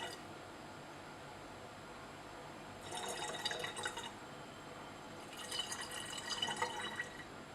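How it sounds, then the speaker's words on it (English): Glacial acetic acid poured into a laboratory flask, heard as two short bursts of close trickling and splashing liquid over a quiet background hum. "We measured out the further 70 ml of glacial acetic acid and added this to the flask."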